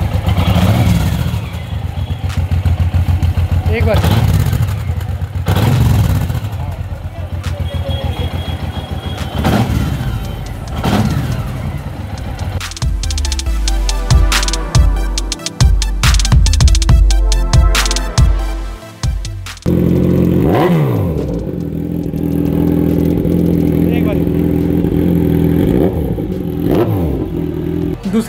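A Kawasaki Ninja 1000 motorcycle engine idles loudly up close, then revs hard in repeated throttle bursts before settling back to a rough idle; a voice speaks briefly.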